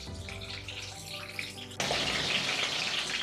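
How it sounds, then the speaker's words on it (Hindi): Eggplant fries in hot oil in a home kitchen for Dakhani-style bagara baigan, a steady crackling sizzle that suddenly grows louder and fuller partway through as water makes the oil spatter. "पानी है इसलिए तेल जो है थोड़ा सा उड़ता है"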